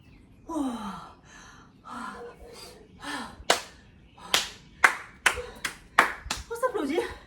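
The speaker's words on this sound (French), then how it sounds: "On s'applaudit." A fitness class claps after a tabata workout: a few loose, hesitant claps and breathy gasps at first, then louder, sharper scattered clapping from several people, with exhaled sighs mixed in.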